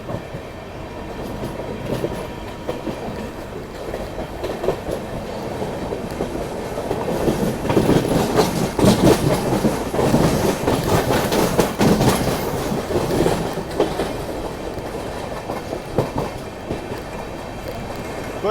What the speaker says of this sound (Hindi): Overtaking Humsafar express, Anand Vihar terminal Gorakhpur Humsafar.